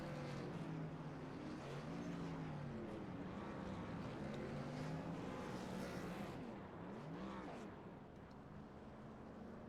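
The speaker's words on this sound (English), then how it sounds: "Now this is going to be a battle of the burnouts." Racing trucks at a truck championship event doing burnouts, a loud sustained engine roar with shifting revs and tire noise throughout, dipping slightly toward the end.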